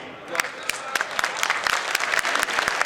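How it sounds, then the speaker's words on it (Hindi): Hands clap at a Holi celebration, a crowd's applause with sharp individual claps standing out at an irregular pace over a busy background. "सतीश भैया तो बहुत अच्छा ताली बजा रहे हैं"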